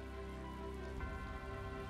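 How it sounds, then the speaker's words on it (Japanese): Rain patters steadily in the Tales of Vesperia video game, a soft continuous wash of drops over a low, humming ambient background. "雨降ってっけどな。"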